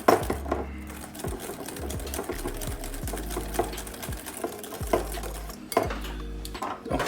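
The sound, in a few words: mixing tiramisu cream in a bowl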